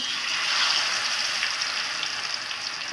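Chicken pieces fry in a kadai already used for onions, producing a steady, dense hiss of sizzling oil that stays even and close throughout, with no voices.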